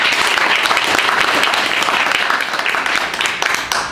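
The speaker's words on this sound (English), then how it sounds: "so just a round of applause" An audience at a live comedy show breaking into dense, loud applause, many hands clapping together in a continuous wash that tapers slightly toward the end.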